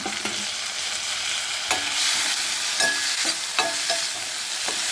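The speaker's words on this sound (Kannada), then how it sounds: "ಇದಕ್ಕೆ ನಾನು ಅವರೆಕಾಳು ಬೇಯಿಸಿಟ್ಕೊಂಡಿದ್ದು ಹಾಕ್ತಾಯಿದ್ದೀನಿ" Cooked field beans (avare kalu) being stirred into a frying pan for masala uppittu, with a steady, close sizzle and scraping spatula strokes throughout and no talking.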